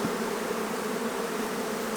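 Honey bees from a hive kept for honey give a faint, steady buzzing hum, unbroken for a couple of seconds with no other sounds.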